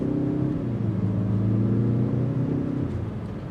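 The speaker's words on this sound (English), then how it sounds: "It's a throaty exhaust note" A 2022 Mazda CX-30 Turbo accelerating, its throaty exhaust note a loud, steady rumble with rising engine harmonics that ease off slightly at the end.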